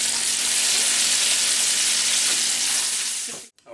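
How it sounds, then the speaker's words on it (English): Three pierogi sauté in butter in a hot pan, a loud, dense, steady sizzle heard close up that cuts off abruptly at the end. "I'm just going to saute like 3 of these in some butter"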